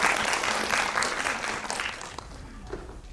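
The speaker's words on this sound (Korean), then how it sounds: "여러분들 박수 부탁드립니다." An audience applauds at a Korean film screening with a guest Q&A. The clapping is dense and sustained, then tapers off toward the end.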